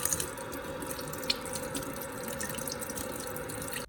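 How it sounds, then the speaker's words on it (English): A kitchen tap runs steadily into a sink while vegetables are rinsed under the water, a soft continuous splash with a few drips and clatters, faint and without voices. "you're just gonna rinse them into the sink with all your vegetables, and you're just gonna rinse them out with water."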